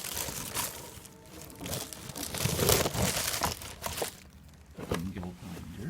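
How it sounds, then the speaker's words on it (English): Plastic and cardboard packaging of a Total angle grinder crinkles and rustles in bursts during unboxing, fairly close, with intermittent talking over it. "So I'm showing you the unboxing of the Total"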